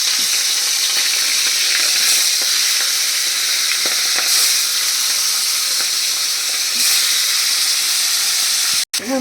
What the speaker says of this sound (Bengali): এবার দেখো তোমরা, তেলটা আমার গরম হয়ে গেছে। এবার আমি যে মাছগুলো আমি সব এক এক করে ছেড়ে দিচ্ছি।